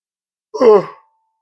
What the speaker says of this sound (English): somebody must be yawning